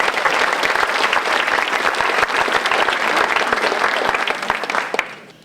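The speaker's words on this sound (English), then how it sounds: "So a big round of applause for our two sponsors." Loud, sustained applause from a seated audience at a 2015 federal election debate in Port Moody-Coquitlam, many hands clapping densely for about five seconds before quickly dying away.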